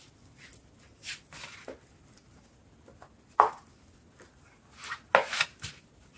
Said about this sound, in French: on prend son pinceau et on étale bien.